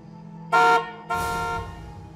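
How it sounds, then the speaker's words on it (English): Two loud car horn honks, a short blast followed by a longer one, sounding close and clear over quiet background noise. "They say they honk."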